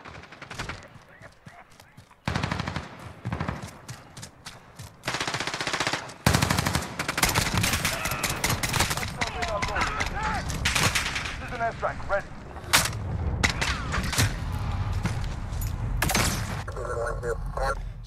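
SKS designated marksman rifle in Call of Duty Modern Warfare fires repeated sharp bursts of gunshots over battlefield noise, with bursts coming in clusters and dense rapid volleys in the second half.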